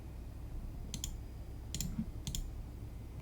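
Three sharp mouse clicks on a computer while working in chip layout software placing guard rings, spaced about a second apart over a quiet room hum.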